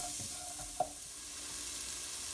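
Onions and spices sauté in a pan, giving a soft, even hiss that holds steady throughout, faint and a little distant, with one small clink partway through.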